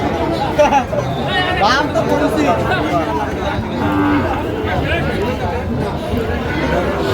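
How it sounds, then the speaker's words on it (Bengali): Sahiwal cattle, including young bull calves, moo repeatedly at a busy livestock market in Gazipur, their calls rising over a steady background of crowd chatter and nearby talk. "শাহিওয়ালার বাচ্চা দেখছিলাম এখানে যে গরুগুলো কিনছেন মোমেন ভাই"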